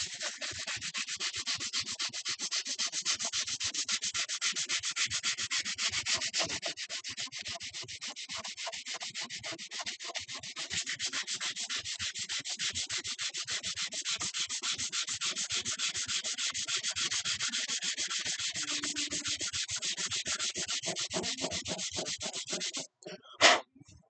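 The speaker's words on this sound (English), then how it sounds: "I'm going to take my little, 100 grit sandpaper and kind of go over that little spot right there" Steady hand sanding of a small spot with 100 grit sandpaper, a continuous close-up scratchy rubbing that runs unbroken for over twenty seconds before a brief knock at the end.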